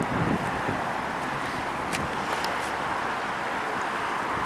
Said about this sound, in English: The wind is picking up even more.